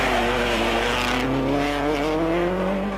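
A Subaru Impreza with a flat-four engine races past, its loud, steady burbling note continuous and close, with tire noise and a rising whoosh as it goes by.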